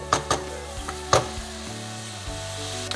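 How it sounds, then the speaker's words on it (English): Onions sizzle steadily in a pan for a South African curry, a constant frying hiss with a few sharp crackles and pops near the start and end, close and fairly loud, with no talking. "Sizzling nicely."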